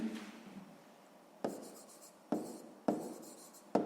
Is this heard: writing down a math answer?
yes